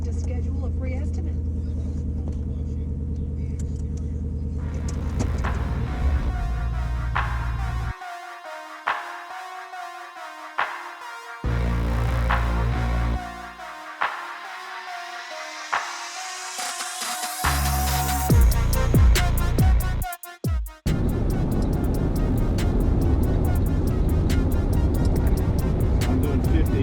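Car interior on a road drive after suspension work, with a steady engine and road drone and tyre noise, broken by a few quieter gaps before the rumble returns louder; no one speaks.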